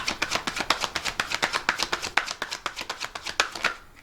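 A deck of tarot cards is shuffled by hand close up, giving a quick, steady run of crisp slaps and riffles that lasts about four seconds with no talking.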